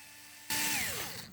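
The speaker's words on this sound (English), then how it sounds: "Alright, so now I'm going to use my power tool." A power drill bursts on loudly and whirs for about a second while working on a CYC X1 Pro Gen4 sprocket, its pitch sliding downward as it winds down, after a faint mechanical hum.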